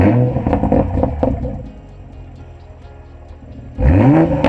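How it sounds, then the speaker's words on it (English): Toyota MK5 Supra with an HKS high-power catback exhaust: a loud engine note that settles into a low idle rumble, then a sharp rev with rising pitch near the end, no talking over it. "The only performance mod I have is the aftermarket exhaust, which is from HKS."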